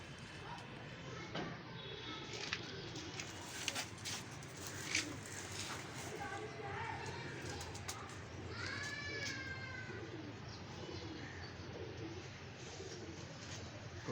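Pigeons coo softly and repeatedly at a pigeon club, mixed with other bird calls and scattered chirps over steady outdoor background noise, with someone talking at times.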